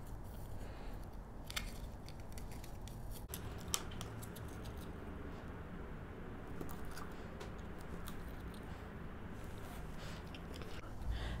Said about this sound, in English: And trim off your excess.